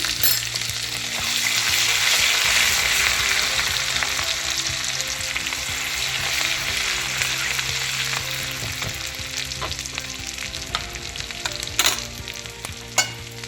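Ginger garlic paste and green chillies fry in a pan of hot oil for kadhi pakora, producing a loud, continuous close sizzle that eases slightly over time, broken near the end by a few sharp utensil knocks while stirring.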